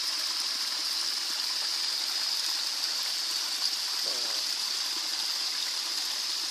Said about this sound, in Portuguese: Na ribeira da mata, o som da água a correr